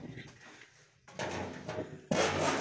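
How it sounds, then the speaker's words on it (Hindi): A hand file rasps around the edge of a punched hole in a metal control panel, quiet scraping at first and then louder, denser strokes up close. "इसको फाइल मारेंगे"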